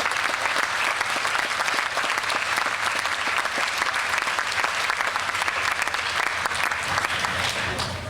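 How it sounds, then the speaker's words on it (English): Audience at a 2012 USC Price undergraduate commencement ceremony applauding, a dense, loud, continuous wash of clapping that fills the whole stretch with no break. "you need to give yourselves a hand of applause."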